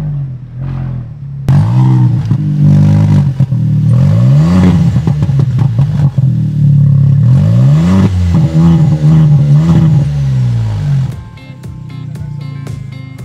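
A Skoda Rapid Cabriolet student project car with a tuned exhaust, the unchanged engine blipped repeatedly in loud, close revs that rise and fall in several bursts before settling back to a quieter idle.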